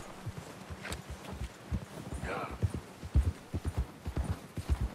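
Horse hooves clip-clop at a steady walk in Red Dead Redemption 2, rhythmic near footfalls with light rustling in the background and a soft snort partway through.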